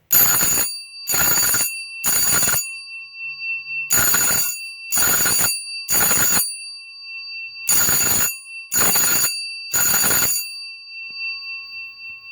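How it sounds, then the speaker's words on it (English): Loud vibrating 4-inch Edwards Adaptabel No. 340 fire alarm bells ring a code 3 pattern in nine short bursts, three groups of three evenly spaced rings, with silence between groups. "this mechanism is probably one of the best mechanisms ever for vibrating bells"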